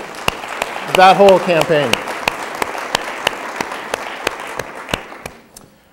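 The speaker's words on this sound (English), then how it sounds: "We should applaud" Sparse, evenly paced claps ring out from an audience at a city hall State of the City address, while someone speaks briefly over the first seconds and the clapping continues on its own.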